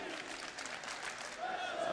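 A large crowd applauds and cheers at the MLG Columbus 2016 esports grand final between Natus Vincere and Luminosity, a dense wash of clapping and cheering that swells toward the end under a commentator's voice.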